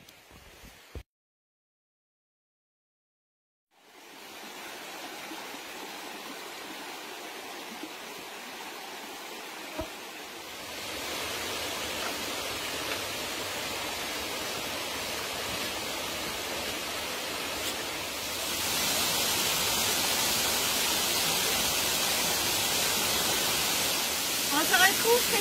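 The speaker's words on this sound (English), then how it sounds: "On se retrouve présentement devant les plus grandes chutes continues du Nouveau-Brunswick" Falls Brook falls in New Brunswick roar as a steady broadband rush of water, fading in after a brief silence and growing louder as the falls get closer, with people talking quietly over it.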